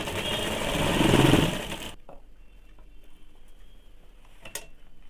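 A sewing machine runs a fast, continuous stitching burr along the lower hem of a Bombay-cut blouse for about two seconds, then stops abruptly, leaving quiet room tone with faint handling clicks.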